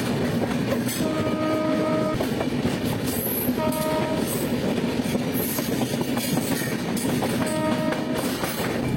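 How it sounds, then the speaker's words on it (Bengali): The Howrah–Bengaluru Humsafar Express pulls out of Bhubaneswar station with a continuous loud rumble and wheel clatter, broken by repeated horn blasts, with no voices. "আমাদের ট্রেন ছাড়ল ভুবনেশ্বর স্টেশন থেকে তার গন্তব্য SMVT ব্যাঙ্গালোরের উদ্দেশ্যে"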